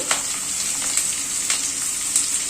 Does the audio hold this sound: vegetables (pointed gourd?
yes